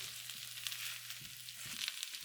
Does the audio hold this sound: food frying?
yes